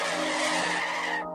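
A brief, loud tire screech of hard braking, used as a radio segment sound effect, squeals for just over a second and then cuts off sharply.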